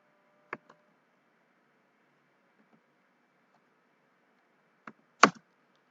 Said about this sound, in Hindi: मैं कीबोर्ड से इसके जो 4 यूनिट हैं, जो इसकी डायमेंशन है वो टाइप करता जा रहा हूं और इंटर प्रेस करता जा रहा हूं।